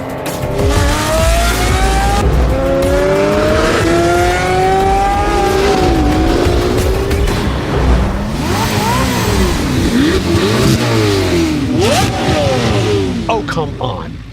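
A 1,000-horsepower Corvette supercar revs and accelerates hard, its engine note loud and continuous, sweeping up and down in pitch through repeated gear pulls.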